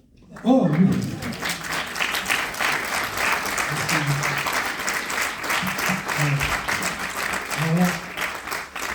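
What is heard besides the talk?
audience applause after a talk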